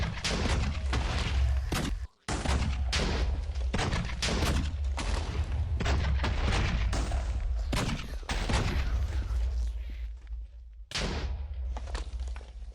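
Turrets and weapons fire at zombies in a video game: dense bursts of loud gunfire and booming shots repeat in rapid volleys, with brief pauses between them and no talk.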